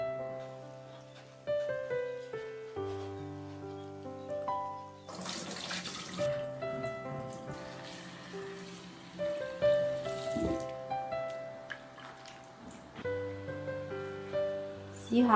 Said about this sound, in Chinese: 金针菇切七分厚， 放清水中洗一下。